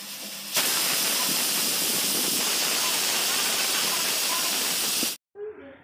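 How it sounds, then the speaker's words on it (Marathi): A pressure cooker holding mutton soup lets out one loud, sustained steam hiss for about five seconds, close and dominating, then cuts off abruptly. "आपल्या कुकरच्या 4 शिट्ट्या झालेल्या आहेत"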